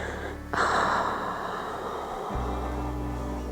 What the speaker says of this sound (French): Et expire par la bouche.